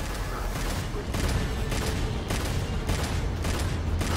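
Rapid bursts of gunfire in Devil May Cry 5 repeat roughly every half second over a dense, constant battle din, loud and close with no talking.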